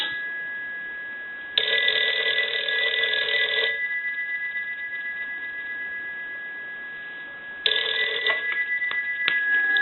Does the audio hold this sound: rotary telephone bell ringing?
yes